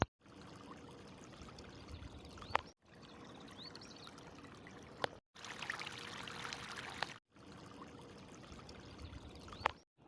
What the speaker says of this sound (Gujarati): ત્રાવડીનું પાણી નીકળી જશે